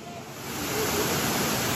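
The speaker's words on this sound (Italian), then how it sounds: "Adesso vado sotto la cascata," Water pouring down from a waterfall onto an amusement park water ride at Gardaland, a steady broadband rush that builds in the first half-second and then holds loud and close, with no voices over it.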